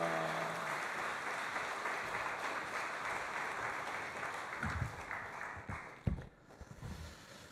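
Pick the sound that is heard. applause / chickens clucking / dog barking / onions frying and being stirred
applause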